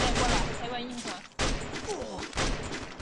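Gunfire from a first-person shooter video game sounds as two sharp loud bursts of shots, each followed by a fading decay.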